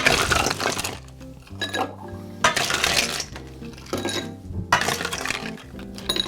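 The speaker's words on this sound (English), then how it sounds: "Going to add some ice to this." Ice cubes dropped into a metal cocktail shaker for a peony martini, several bright clattering bursts of clinking ice over a few seconds, close and loud.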